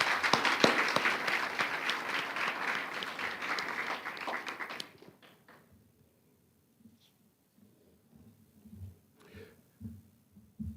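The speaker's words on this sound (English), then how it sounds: "one more round of applause" Audience applause at a Martin Luther King Jr. celebration program: about five seconds of full, steady clapping that stops abruptly, followed by quiet room noise with a few soft shuffles and taps.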